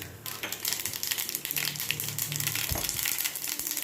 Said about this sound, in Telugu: ఇప్పుడు నూనె కాగింది, ఆవాలు వేస్తున్నాను